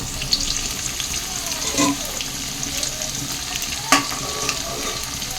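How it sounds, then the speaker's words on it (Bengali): Potatoes frying in oil in a home kitchen, a steady close sizzle with soft stirring clatter and a couple of brief utensil knocks. "হয়ে গেছে, আলু ভাজা হয়ে গেছে, আলুটা নামিয়ে ফেলি।"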